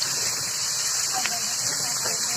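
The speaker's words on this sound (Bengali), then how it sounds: "পেঁয়াজ মরিচ আর রসুনটা দিয়ে দেবো, দিয়ে ভাজতে থাকবে" Onion, chili, garlic and cumin fry in a pan for a goat tripe dish, giving a steady, even sizzle and hiss throughout with a few faint stirring sounds.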